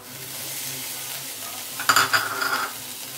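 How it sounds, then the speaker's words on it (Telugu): Fried onions for a stuffed brinjal curry being stirred in a pan, with a soft steady sizzle and then a brief burst of scraping and clinking utensil strokes. "ఇవి బాగా కలుపుకోవాలి. ఉల్లిపాయలు బాగా ఎగిపోయినాయి."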